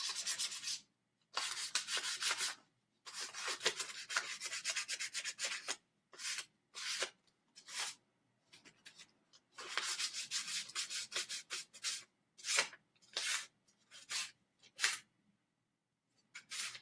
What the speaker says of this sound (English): This light grit sandpaper loses its grit rather quickly, but it's taking the stain off and not reshaping it.